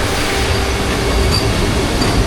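An empty passenger train on the Araku mountain railway rumbles steadily along the track, with a loud, continuous roar of wheels and carriage noise and faint squeals, close by and with no voices.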